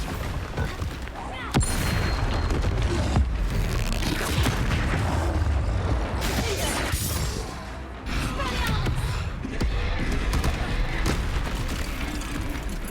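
Repeated booming spell blasts from Confringo and Bombarda cast against a troll in Hogwarts Legacy, loud and dense, with heavy impacts and crashes stacking over one another and a game-music backdrop throughout.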